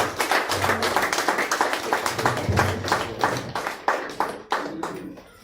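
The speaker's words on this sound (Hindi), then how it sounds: "एक बार जोरदार तालियां बजा दीजिए।" An audience at a workers' award ceremony honouring unorganised sector workers claps in fairly distinct, uneven bursts, moderately loud and nearby, tapering off toward the end.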